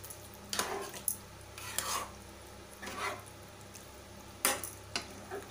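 Chana dal being stirred into a hot tadka in a pan, giving several separate bursts of scraping and sizzling at irregular intervals, each fading quickly, fairly close with no talking.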